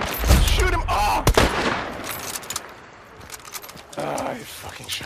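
Gunfire in Hunt: Showdown, with a few sharp, loud shots early on and a later burst amid movement noise, while voices shout over it.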